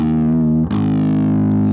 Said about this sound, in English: So right now this is just the distortion